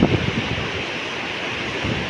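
A flooded stream surges with rough waves after heavy rain, a dense, continuous roar of rushing water mixed with wind buffeting, loudest at the start and steady throughout, with no voices.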